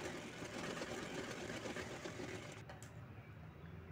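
A sewing machine stitches fabric for a bag, running in a continuous close mechanical whir with a steady rapid pulse, slowing slightly toward the end.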